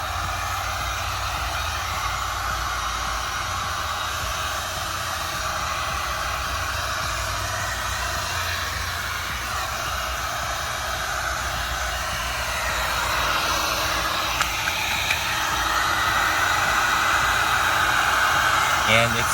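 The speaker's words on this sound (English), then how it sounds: "take your heat gun, apply some heat" A heat gun blows hot air onto a creased roof wrap on a 10th-gen Honda Civic hatchback, a steady hissing rush that runs continuously and close for the whole stretch.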